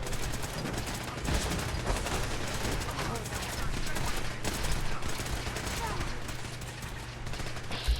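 Rapid video game turret gunfire rattles continuously and loud throughout, a dense stream of shots with a voice talking over it.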